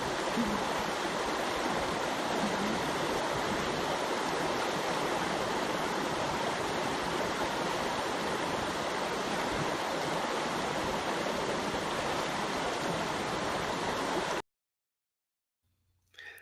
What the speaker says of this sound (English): I don't know if you guys could hear the sound of the river.